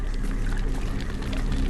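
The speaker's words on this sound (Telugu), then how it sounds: "తీసుకొని ఇప్పుడు నీళ్ళు పోయాలా?" Water pours in a mobile game, a continuous broad splashing rush that stays steady and loud for the whole moment with no voices.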